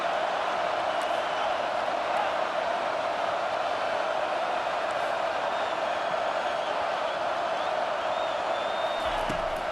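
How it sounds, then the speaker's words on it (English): Stadium crowd noise in a college football video game, KSU against Texas Tech, swells into a steady roar of cheering on a third-down defensive stand, with a voice talking faintly under it. "Decibels rising as the crowd gets behind this defense on third down."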